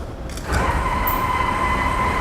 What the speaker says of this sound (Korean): 그리고 이제 열차가 도착했으니까 승강문이 열려지겠죠